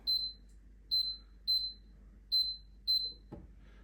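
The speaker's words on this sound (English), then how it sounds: "I don't like that beep, does my head in." Five short, high electronic beeps from the control panel of a Tower 9-litre two-drawer air fryer, evenly spaced, followed by a soft click.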